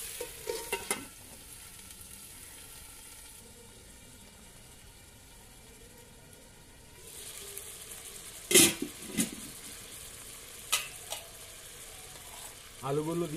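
Chicken pieces fry in a covered pan of pudina chicken, a soft, steady sizzle that rises partway through, broken by several sharp clatters of stirring close by, with faint talk at times.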